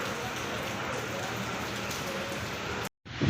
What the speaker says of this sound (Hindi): बहुत तेज आंधी और बारिश शुरू हो चुका है